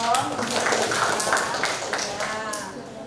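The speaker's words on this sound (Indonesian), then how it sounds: "Tepuk tangan dong." Schoolchildren in a Quran reading class clap together on cue, a burst of quick, fairly close hand claps mixed with young voices calling out.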